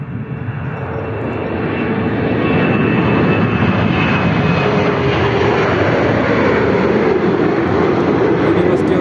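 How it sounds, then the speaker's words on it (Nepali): An airplane arriving at London City Airport, heard from a nearby university campus in the Docklands: a loud, steady aircraft engine roar that builds over the first few seconds and then holds close and continuous. "उताबाट एउटा प्लेन आउँदैछ,"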